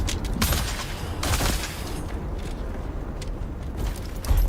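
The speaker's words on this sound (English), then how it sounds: "Yep, okay, you're gonna shoot at me." Gunfire in the video game Dune Awakening, bursts of shots and noisy impacts crackling through the whole stretch, with a louder burst near the start and another at the end.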